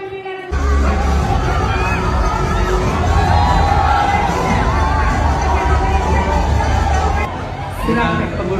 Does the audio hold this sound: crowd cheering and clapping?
yes